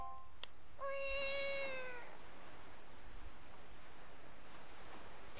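Link, turned into a cat in the game The Legend of Zelda: The Wind Waker, lets out one clear, bright meow near the start, followed by quiet ambient hiss with no other sounds.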